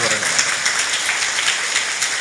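A church congregation clapping their hands together in thanks, a dense, steady wash of many hands that stays loud and even throughout without pause.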